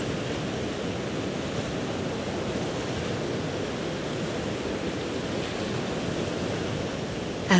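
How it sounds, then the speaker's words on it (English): Ocean waves roll in on a sandy beach at sunset, a steady, dense wash of surf that holds constant and fairly loud throughout with no voices. "the sound of incoming rolling tide gets stronger"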